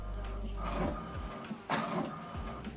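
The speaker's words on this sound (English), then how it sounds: "So what it's doing now is printing the alignment." An HP inkjet printer printing an alignment page whirs and clicks in repeated short passes, the print head shuttling back and forth, with a low motor hum at the start.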